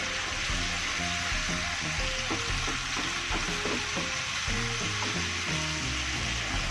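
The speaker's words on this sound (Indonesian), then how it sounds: "Kita aduk kembali." Sambal seasoning fries with a steady, loud sizzle while a utensil stirs and scrapes it, the clatter repeating irregularly throughout; a grilled-chicken (ayam bakar) sauce cooking close by with no voices.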